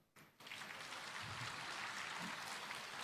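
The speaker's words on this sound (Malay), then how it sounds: "Tepuk tangan." Applause from an audience at a political speech in Malaysia starts abruptly after a brief pause and builds into sustained, even clapping from many hands, fairly faint and distant.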